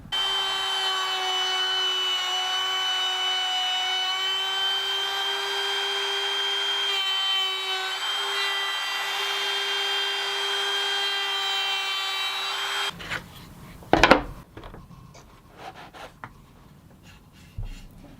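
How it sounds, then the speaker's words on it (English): A router fitted with a template bit cuts a recess into a wooden guitar neck, giving a loud, steady high whine that runs for about thirteen seconds, then winds down and stops into quieter clatter and handling noise. "Using a template bit in my router will allow me to cut the recess right where I need it."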